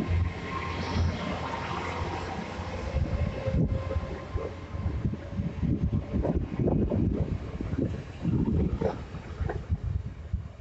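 A train on the Great Western Main Line at Taunton rumbles past steadily for about ten seconds, with heavy wind buffeting the microphone throughout.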